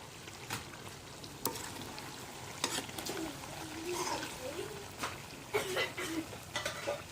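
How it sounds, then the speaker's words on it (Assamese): Pork frying in oil in a pan, a soft sizzle with intermittent scraping and stirring clatter, fairly quiet and close with no talk. "অলপ মাংস ধুনীয়াকৈ ফ্ৰাই হৈ গ'ল"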